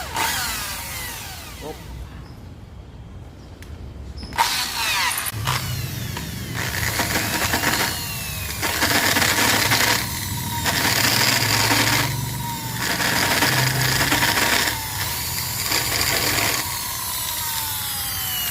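Power drilling and widening bolt holes in a steel fender bracket for a Yamaha Mio i 125 scooter, a sustained grinding whine that comes in several long bursts separated by brief pauses, close and loud.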